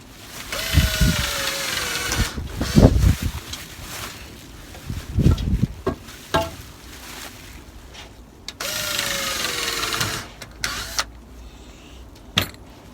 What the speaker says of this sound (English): I'll see how far I can get doing this with my drill